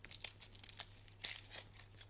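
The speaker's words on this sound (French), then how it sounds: "Alors il nous faut déjà éplucher l'ail et l'échalote" Papery skins being peeled off garlic and shallot cloves, small quiet tearing and crinkling sounds in irregular bursts over a faint steady hum.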